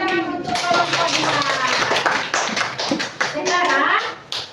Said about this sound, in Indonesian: yang minta beri tepuk tangan untuk kelompok 2